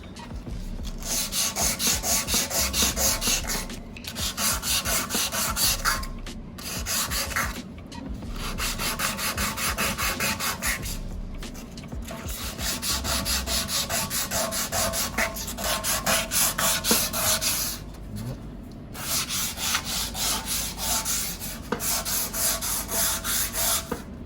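120 grit sandpaper rubs back and forth over a motorcycle gas tank in long, steady rasping strokes, close and continuous, broken by a few brief pauses, with no talking.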